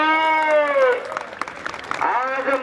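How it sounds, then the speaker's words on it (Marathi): A crowd at a women's wrestling bout applauds in a short burst of clapping. An announcer's drawn-out, sung voice comes before the clapping and again after it. "टाळ्या वाजवा जरा दोन्ही पोरीसाठी."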